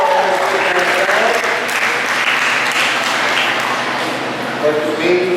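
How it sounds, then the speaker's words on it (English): An audience at a county fair main show breaks into loud, sustained applause with dense clapping and a few cheers. It carries on steadily, with voices faintly underneath. "Give her a big round of applause."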